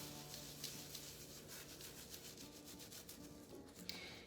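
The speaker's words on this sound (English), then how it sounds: "I have a nice soft brush, and before I wet it, I am just going to try to scrub it right in." A soft brush scrubs a stain on thrifted clothing, dry and before wetting, making a steady, close scratchy rubbing with repeated back-and-forth strokes and no speech.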